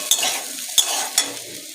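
Steady sizzling of pumpkin frying in a pan, broken by three quick scrapes or clinks of a utensil stirring.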